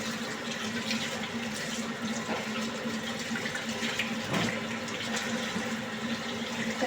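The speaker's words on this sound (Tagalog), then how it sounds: "Hugasan ko na guys." Food being washed by hand under a running kitchen tap, a continuous close water stream with splashing and rinsing texture throughout, no speech.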